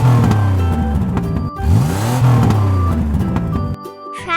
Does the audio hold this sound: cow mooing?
no